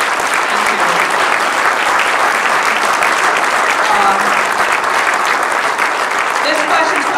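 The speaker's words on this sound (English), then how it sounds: "If the veterans in the room could stand up and take a clap" Sustained, loud applause fills a room at a mayoral candidate forum as veterans in the audience stand, steady and unbroken for several seconds with a faint murmur of voices beneath.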